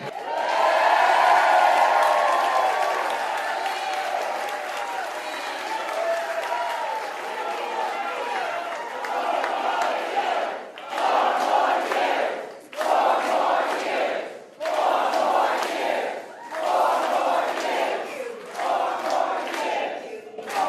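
A political rally crowd roars and cheers, loud sustained shouting and applause at first, then repeated bursts of cheering breaking between pauses where a speaker addresses the audience.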